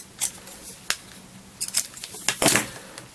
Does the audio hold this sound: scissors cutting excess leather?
yes